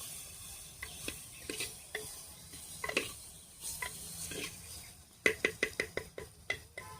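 Mutton pieces frying in oil in a pan, a low hissing sizzle with intermittent stirring scrapes, ending in a quick run of sharp metallic taps of a utensil against the pan.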